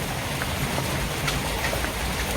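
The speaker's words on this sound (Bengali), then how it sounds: "দেখো কেমন জোরে বৃষ্টি শুরু হয়ে গেল" Heavy rain falls in a dense, steady hiss that fills the whole stretch at an even, loud level, with no voices.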